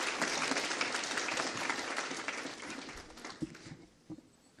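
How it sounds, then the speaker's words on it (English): Steady applause from an audience at a formal legal-year opening ceremony in Botswana, honoring the Attorney General's support staff; dense clapping that gradually thins and fades, ending in a few scattered claps. "shall we give them a round of applause?"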